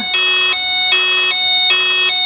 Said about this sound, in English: I think that's the ambulance.